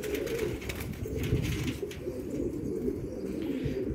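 Pigeons coo softly and steadily in a continuous low murmur, several birds overlapping without pause, with no talking.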